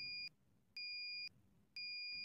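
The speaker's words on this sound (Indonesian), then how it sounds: "Akhirnya, rangkaian buzzer dan LED merah aktif." A simple power-outage alarm circuit's buzzer, switched on from battery power, sounds three steady two-tone beeps with short silent gaps, clear and close.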